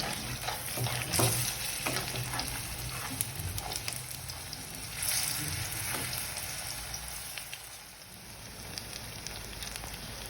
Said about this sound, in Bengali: এটাকে পుরোপুরি ডিপ ফ্রাই বলা চলে না, বলতে হয় যে সেমি ডিপ ফ্রাই